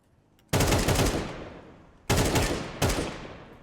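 Rifle fire from Counter-Strike 2 arrives in three close, loud bursts of rapid automatic shots. The first burst is long and the two later bursts are shorter, each trailing off into a brief echo.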